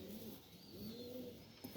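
A breeder flying pigeon coos softly and close by, a short, low, throaty call that rises and falls, with no voices over it.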